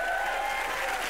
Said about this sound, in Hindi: सुल्तान के लिए जोरदार तालियां